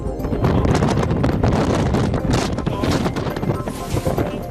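A strong lodos wind buffets the microphone with loud, gusty rumbling and roaring, dense and continuous throughout.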